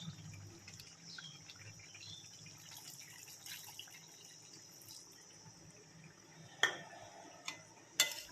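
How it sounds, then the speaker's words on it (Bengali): Water from a bowl is poured into chicken curry simmering in a pan, a soft trickle and splash with a few sharp clinks of utensils against the cookware near the end, fairly quiet and close. "আরও 1 বাটি জল দিয়ে দিলাম।"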